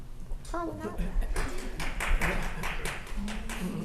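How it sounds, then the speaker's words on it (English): A brief patter of hand claps in a county board of commissioners meeting room, a few people clapping at moderate distance with talk continuing around it. "Who clapped?"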